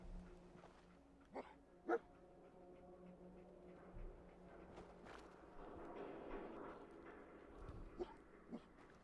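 Faint whimpering and a few barks from a dog companion in the Fallout 4 VR video game, with soft footsteps and low game ambience beneath.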